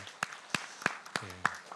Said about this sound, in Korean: 서로 우리 위로의 교제, 위로의 박수, 또 격려의 박수 하십시다